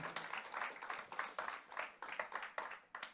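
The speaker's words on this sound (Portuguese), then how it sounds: "Pode aplaudir o Senhor, querido?" A church congregation claps in a faint, distant, steady rhythm, the evenly spaced claps carrying on for a few seconds.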